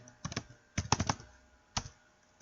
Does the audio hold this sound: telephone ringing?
no